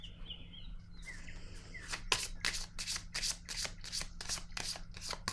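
Tarot cards being shuffled and drawn, a run of crisp papery flicks and riffles repeating quickly and close to the microphone, faint background hum underneath and no speech.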